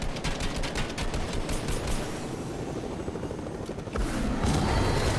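A helicopter in the Fortnite video game, a continuous loud rotor thump with a dense, rapid beat, mixed with scattered gunfire, and no speech.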